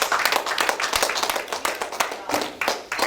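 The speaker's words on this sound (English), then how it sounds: "let's give Brother Frank a hearty round of applause" Audience at a mosque Christmas program claps for Brother Frank X, a dense burst of many hands with irregular loud peaks, close and steady for a few seconds, with a faint voice underneath.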